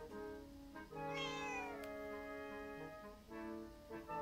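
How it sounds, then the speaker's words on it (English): A cat meows repeatedly in the Zelda: Echoes of Wisdom video game, several clear, close meows over steady game music, with one rising, drawn-out cry in the middle. "Look at the kitty!"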